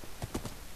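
Horse hooves clip-clopping in a video game set after an arctic crash landing, a quick run of soft, rhythmic beats lasting under a second with no speech over them.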